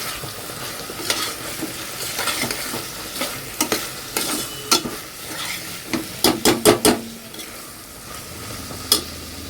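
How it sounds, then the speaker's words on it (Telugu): Fenugreek seeds frying in oil, a soft continuous sizzle broken by repeated sharp scrapes and clinks of a spoon stirring against the pan, with a quick cluster of taps toward the end. "మీరు నూనెలోనైనా మెత్తాలను వేయించుకోండి."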